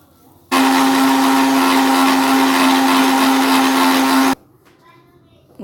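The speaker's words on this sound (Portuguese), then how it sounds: "Agora eu vou colocar no liquidificador assim seco mesmo e vou bater" A blender grinds dried chamomile flowers in one loud, continuous whirring burst of about four seconds with a steady motor hum, starting and stopping abruptly, alone with no talk.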